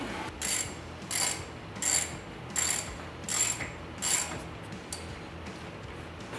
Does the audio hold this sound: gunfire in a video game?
no